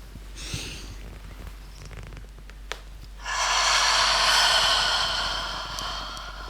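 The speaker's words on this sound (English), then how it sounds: "using the sound of your breath to guide you" Slow, steady breathing close by during yoga practice, with a soft long exhale rushing in the second half; quiet room, no talking.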